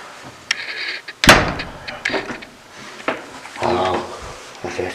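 A wooden door in an abandoned 1790 mansion in Wavertree, Liverpool, is pushed shut with one sharp, loud thud, followed by softer knocks and rattles as it settles, with faint voices nearby.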